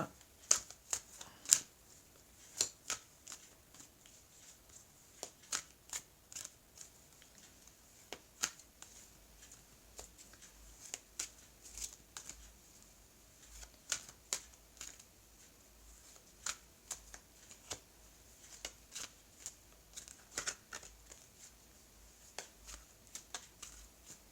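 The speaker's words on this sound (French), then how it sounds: "je vais couper et étaler les cartes" Oracle cards being cut and spread across a surface, giving a quiet string of irregular papery slaps, riffles and clicks, close and soft against a faint background hum, with no voices.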